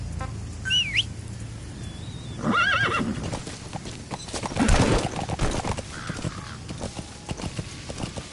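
A horse in Metal Gear Solid V gives a loud, close whinny, with clip-clopping hooves, scattered bird calls and a whistle over ambient outdoor noise.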